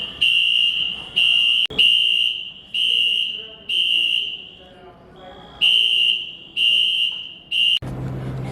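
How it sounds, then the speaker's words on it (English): A shrill, high-pitched fire alarm beeps in repeated bursts, pausing briefly midway before resuming, then cuts off as quieter room sound takes over. "they're testing the fire alarms"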